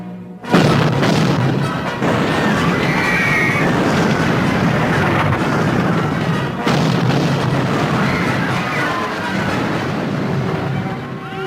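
Heavy artillery pounds away in a film battle scene set during the siege of Peking, a loud, continuous rumble of booming gunfire with no clear gaps between shots.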